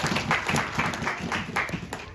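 Clapping from a church congregation at an evangelistic service, a steady, full wash of many hands that carries on evenly for a couple of seconds, with some crowd voices mixed in.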